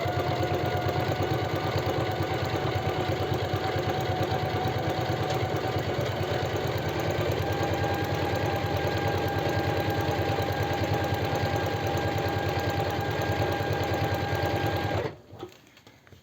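A sewing machine stitches a narrow faux leather women's belt in one steady, fast, continuous run up close, then stops abruptly near the end.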